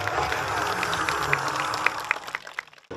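Audience applause in a Lithuanian concert hall as a band is introduced: dense, steady clapping from a crowd throughout, with a few sharper claps standing out before it thins and drops away at the end.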